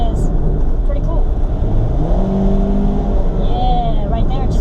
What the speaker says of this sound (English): it just went from fourth gear to second in like no time